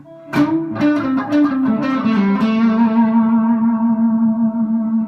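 A custom Telecaster electric guitar played on the neck pickup: a few picked notes and a strummed chord with a warm, round, throaty tone, ringing out with echo and sustain.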